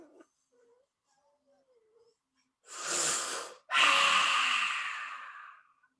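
A deep breath in a breathing exercise is drawn in slowly and then let out at length, with a brief pause between. The sound is close and breathy, alone after a few soft sounds.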